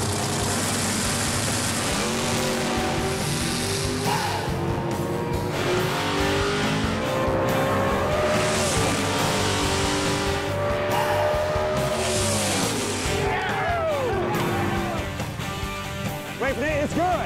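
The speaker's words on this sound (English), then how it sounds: "Winning a drag race." Drag race cars launching at an all-out drag race in Shreveport, Louisiana, engines screaming through rising gears with tire squeal and skidding, loud and close, alongside a voice talking.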